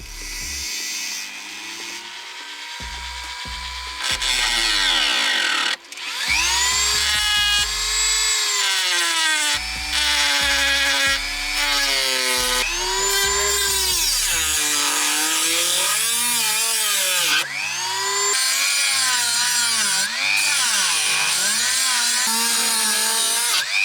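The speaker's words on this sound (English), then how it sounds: "I'm going to try with the Dremel first to see if we can cut through." Dremel cutting into a car body panel on a Toyota Soarer during a T56 Magnum manual swap, a loud high whine that rises and falls in pitch as the cut progresses, close and sustained.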